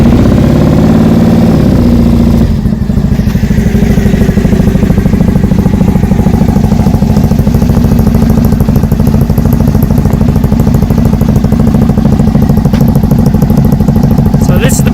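Triumph Bonneville motorcycle on a stock tune with British Customs Predator exhaust pipes starts after a brief cranking, then settles into a loud, close, throbbing idle with a steady rapid pulse throughout.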